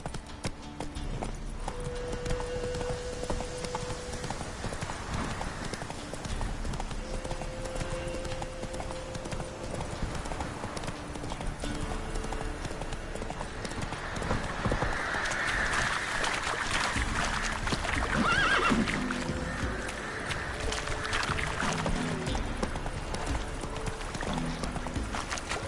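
Roach, a horse in The Witcher 3: Wild Hunt, clip-clops steadily throughout, hooves loud and close over game music, with a possible brief whinny.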